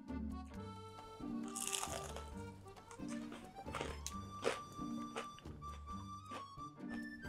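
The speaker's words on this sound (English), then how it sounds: "our schiacciata is ready, as you can see, it's really nice and crunchy." Someone bites and chews crunchy pumpkin schiacciata flatbread close to the mic, with a run of loud crisp cracks and crackly chewing, and faint kitchen sounds underneath.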